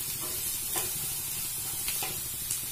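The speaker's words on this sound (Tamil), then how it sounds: "நல்லா பச்சை வாடை போகிற வரைக்கும் வதக்கிடுங்க." Cluster beans sautéing in a pan for a Tamil paruppu usili, giving a steady soft sizzle with a few light stirring scrapes, close up and with no talking.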